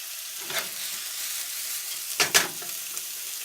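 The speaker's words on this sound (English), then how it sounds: "now with all that bacon fat in there, I'm going to go in with my red onion" Red onion frying in bacon fat in a pan, a steady bright sizzle broken by a few stirring scrapes, the loudest pair clustered near the end, close and alone without talk.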